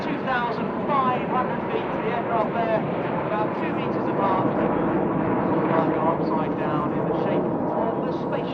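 RAF Red Arrows jets fly in Space Shuttle formation during a right-hand turn at an airshow at Leeuwarden Air Base, producing a steady, loud, broad jet roar that persists throughout, with voices talking over it.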